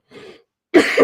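A man who is feeling unwell and has a raspy voice coughs close to the mic: a soft short cough, a pause, then a louder, harsher double cough.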